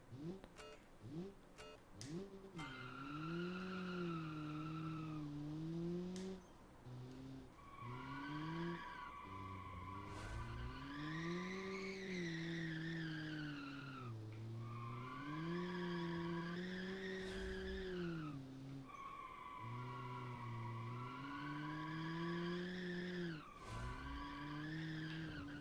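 A car in BeamNG racing through corners in a 1979 oil crisis challenge race, with repeated long squealing tire skids that rise and fall alongside engine revs, loud and close.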